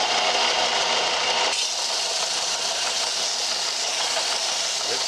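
A belt/disc sander with 80-grit abrasive grinds a metal test piece, making a continuous loud, broadband rushing roar with no pauses. A slight shift in tone comes early on, as if the workpiece was pressed to the belt.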